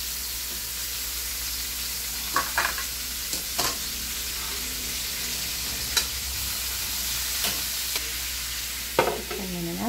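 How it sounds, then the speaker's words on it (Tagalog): Vegetables sauteing in a pan for ginataang papaya with a little chicken: a steady soft sizzle under intermittent scrapes and clicks of a spoon stirring, close and moderately quiet, with no talking. "Ilagay ko na ang ating gulay, ay bibisahin ko na."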